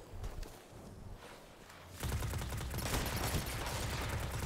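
Rapid automatic rifle fire from a first-person shooter video game crackles in dense bursts, growing louder and more continuous halfway through.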